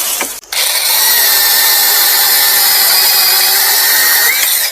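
A 21 volt Sainlogic mini brushless chainsaw with a 6 inch bar gives a loud, sustained high-pitched whine as it cuts close up, after a short start-up burst.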